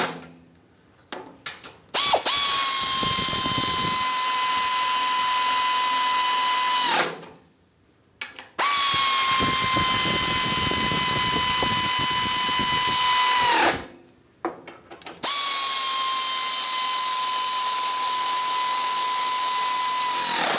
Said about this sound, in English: Sweet thing about air ratchets is you can use them like a ratchet too